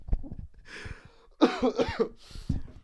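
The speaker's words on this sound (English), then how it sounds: "Apologies for the coughing" A few rough, wheezy coughs up close, one drawn-out hacking burst in the middle followed by another short cough.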